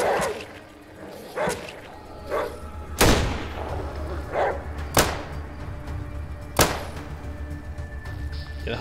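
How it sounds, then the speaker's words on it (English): Hunting rifle gunfire in ATOM RPG, a series of sharp, loud cracks spaced a second or two apart, three strongest shots standing out over quieter thumps and background game noise, no talk. "Hunting rifle's putting in some serious work here"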